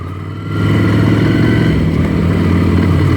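A Ducati Scrambler Desert Sled motorcycle engine drones loudly and steadily while riding, swelling to a sustained, throaty roar after the first half second, with no talk.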